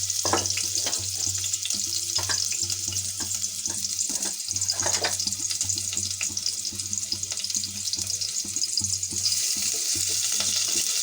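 Onion, green chili and garlic frying in hot oil, a steady close hiss and crackle with occasional stirring clatter and a low hum underneath, continuous throughout.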